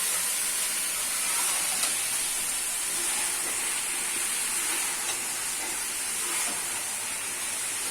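Chicken keema bhunaoing in a pan, Pakistani dhaba style, gives a steady, even sizzle and hiss that runs unbroken for the whole stretch with no voices.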